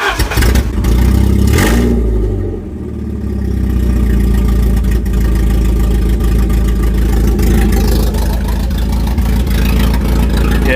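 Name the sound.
car engine starting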